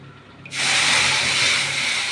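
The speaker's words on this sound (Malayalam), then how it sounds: "അതങ്ങോട്ട് ഒഴിച്ചു കൊടുക്കുക വെള്ളവുമായിട്ട്" Tamarind water hits a hot pan of fish curry with a sudden loud hiss that surges and holds as a steady steaming sizzle.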